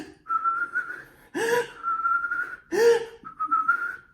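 A voice imitates a monster's whistling nose: thin, steady whistling tones broken by two sharp, breathy gasping snorts, close and alone.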